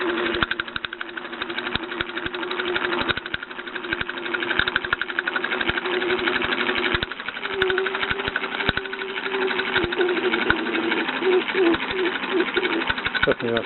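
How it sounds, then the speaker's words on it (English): A Bowman M135 toy steam engine, built on a Meccano base, runs steadily with a continuous hiss from its safety valve and a rapid mechanical chatter, loud and close throughout. "Definitely that safety valve making that noise."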